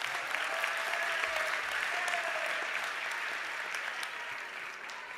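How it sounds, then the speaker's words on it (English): Sustained applause from a large audience at a winter commencement ceremony, steady and broad throughout with a dense wash of many hands clapping and a slight fade near the end. "Another rousing round of applause,"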